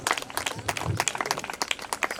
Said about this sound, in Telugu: చప్పట్లు కొడుతూనే ఉండాలి